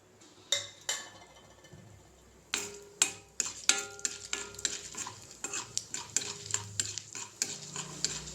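Urad dal and chana dal frying in hot oil sizzle steadily while a spoon stirs and scrapes the pan in a run of sharp, irregular clinks and taps, close and fairly quiet.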